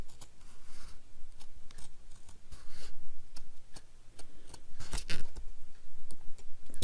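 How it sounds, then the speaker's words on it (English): Scissors snipping a small fold off a paper craft piece during a papercraft project, several short crisp cuts spread irregularly through the clip, close and fairly quiet, with no talking. "All you have to do is cut that little fold off."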